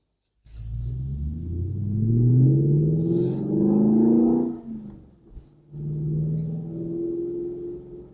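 An Aston Martin Vantage 4.3 with an upgraded ECU accelerating hard on the road, its engine note rising loud and close through the gears, a brief dip on a shift, then pulling strongly again without talk.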